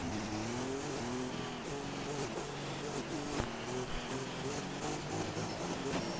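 A McLaren F2 race car in a racing video game drones steadily with a revving engine note as it runs, with tire noise and faint voices beneath.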